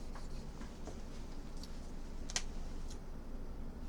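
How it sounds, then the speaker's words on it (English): Pen or marker writing on a board, a few faint scratchy strokes and taps spread irregularly over a constant low background hiss, with one slightly sharper tap midway. "Let me write that in black."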